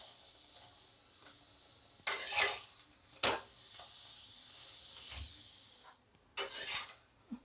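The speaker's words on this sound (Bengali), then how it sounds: "এই আমার আগেরটা প্রায় ভাজা হয়ে এসছে, আর একটু লাল করে ভেজে এর মধ্যে তেল দিয়ে দেবো।" A cauliflower-stuffed paratha fries quietly in a pan, with a low sizzle broken by a few brief, close scraping bursts as it is moved or turned.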